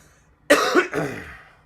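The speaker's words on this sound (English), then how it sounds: "No, I'm coughing." A single harsh cough bursts out close by, followed by a second rougher cough that trails off into a throaty rasp.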